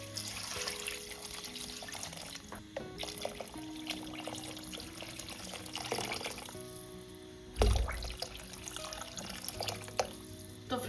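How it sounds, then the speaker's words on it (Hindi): Water poured into a pot with whole garlic cloves and black peppercorns for a chicken soup master stock, a steady, fairly quiet trickling and splashing in a kitchen, continuous with a brief louder splash near the end. "पानी डाल लेंगे।"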